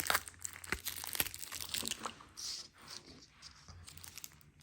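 LOL Surprise egg packaging being torn and crinkled open, a run of close, busy plastic and foil rustling with sharp crunchy bursts early on that settle into softer, steady crinkling, with no voices.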